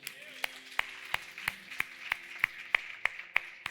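A church congregation at a communion service claps in a steady, evenly spaced beat, with about a dozen crisp, fairly faint claps over a low background hum.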